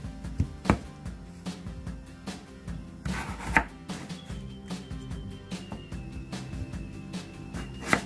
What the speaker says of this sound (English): gonna cut the potato into wedges